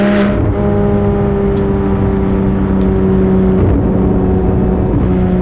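A Porsche 991 911 GT3 RS with a naturally aspirated engine and PDK gearbox revs up through the RPMs, a loud, steady harmonic engine note that stays continuous with brief shifts, no talking.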